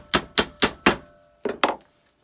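Six sharp metallic taps of a hammer flattening a silver fork for jewelry, four in quick steady rhythm, a short pause, then two more, close and crisp.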